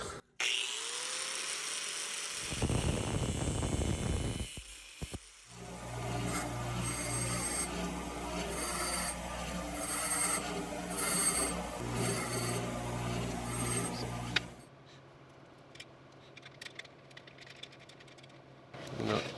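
A Rostyle wheel cover part being cut: a short, rough rasping burst gives way to a longer, steady mechanical whir with rhythmic pulses, then quieter scattered handling noises close by.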